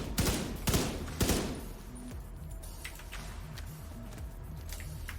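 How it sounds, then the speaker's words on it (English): Bursts of video game gunfire ring out from a shooter positioned above, a few loud sharp volleys at first, then quieter scattered shots and clicking mechanical sounds trailing off. "This is somebody shooting from up here."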